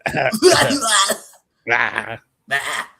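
Three bursts of harsh coughing with a rough, throat-clearing quality, close to the mic and separated by short silences.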